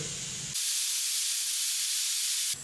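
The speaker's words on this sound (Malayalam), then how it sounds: "മൂന്ന് വിസടിച്ചിട്ടുണ്ട് കുക്കർ ഇനി നിന്ന് മാറ്റി വെക്കാം" A kitchen pressure cooker, cooking for a beef biriyani, lets out one loud, steady hissing steam whistle for about two seconds, starting and stopping abruptly over faint background kitchen noise.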